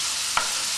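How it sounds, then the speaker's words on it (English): Pears hit a hot pan for a vanilla pear and pork medallion dish, a steady broadband sizzle running throughout with a brief louder burst as they land, close and fairly loud with no talk. "Now we're just going to put the pears in."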